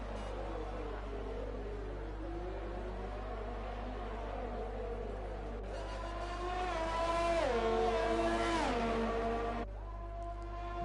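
A Ferrari race car in a racing video game at the Belgium circuit screams at high revs with rising and falling gear-change pitch sweeps, other engines layered in, loudest as it pulls close, then fading away.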